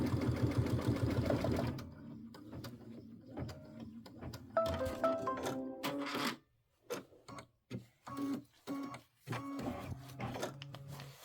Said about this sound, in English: I think it's important to slow your machine down.